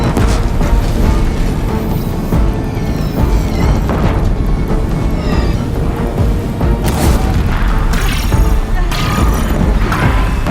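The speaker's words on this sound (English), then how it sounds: "If the Deathbringers keep firing, this bridge will go." Deathbringer machines pound a bridge with heavy fire in the Horizon Zero Dawn video game, loud booms and crashing impacts rolling over a dense, continuous battle din, with no voices over it.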